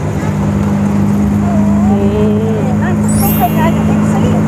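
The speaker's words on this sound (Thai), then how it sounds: "สำล้อตุ๊กๆเป็นไงลูก ชอบเปล่า มืดเลย มืดเลย ตุ๊กๆ นั่งตุ๊กๆลูก" Tuk-tuk ride along a canal-side road at night, with a steady engine drone and road noise close up throughout, a voice and an adult talking over it.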